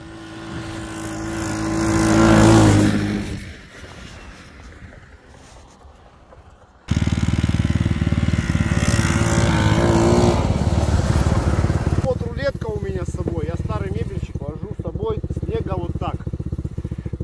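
Irbis SF 200 and Captain Long 200 snowmobiles plow through deep snow, starting with a single engine swelling and fading. A loud, steady engine drone takes over at about seven seconds, and voices shout over it toward the end.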